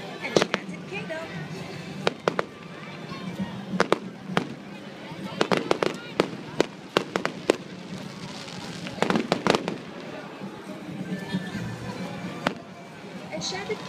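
Sky Wizard fireworks display at Enchanted Kingdom theme park, with sharp cracks and bursts scattered irregularly through the clip over a crowd murmur and voices.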